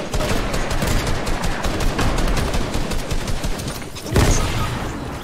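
Dense automatic gunfire in a video game, a continuous close rattle of rapid shots lasting several seconds, with a heavier burst near the end.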